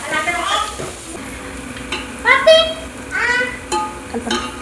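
Washed chicken is tipped into a hot pan with fresh ginger, then stirred. Sizzling and scraping come in short bursts while someone talks over it nearby.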